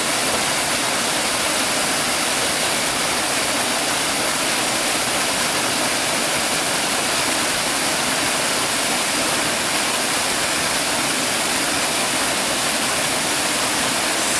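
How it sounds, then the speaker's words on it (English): A woodland waterfall roars steadily and close, a dense, continuous rush of falling water with no pauses or voices throughout. "And look at the beautiful waterfall."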